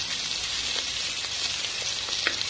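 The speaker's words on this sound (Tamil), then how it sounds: "அதையும் வந்துட்டு உள்ள சேர்த்துட்டு நல்லா வதக்கி விட்டுறலாங்க" Long-sliced large onions sautéing in a pan for plain kuska biryani, giving a steady, loud hiss of frying with a few faint stirring taps and no voices.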